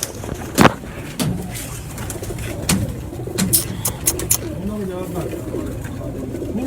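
Purebred breeder pigeons coo repeatedly at close range with low, rolling calls, mixed with sharp clicks and bumps and some nearby voices and background noise.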